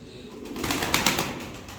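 Fancy pigeons of the Ala and costume breeds cooing in a Gemlik breeder's loft, a soft, steady murmur of coos close by with a few slightly louder swells and no clear talk.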